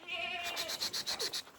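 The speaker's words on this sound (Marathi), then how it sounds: "लय शेळ्या वरडा लागली त्या." Goats bleat nearby on a farm, a quick run of short, wavering cries in close succession, fairly soft against a quiet background.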